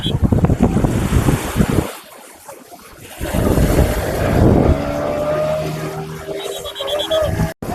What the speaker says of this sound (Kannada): ಇದೇ ಬಾಗಾ ಬೀಚ್